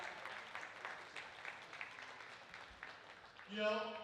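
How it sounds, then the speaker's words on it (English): A crowd at a baseball fanfest gives a round of applause, moderate and fairly distant, with a voice talking over the clapping before a short musical tone sounds at the end. "Round of applause for all of that."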